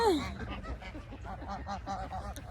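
A large flock of geese and ducks in a park on a morning honking and quacking together, a dense continuous chorus of calls close by.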